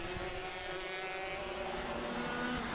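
Junior Rotax racing karts roar past on a track in a continuous loud, buzzing engine drone that swells slightly as the pack goes by, with no voices.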